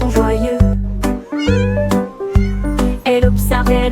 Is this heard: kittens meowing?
yes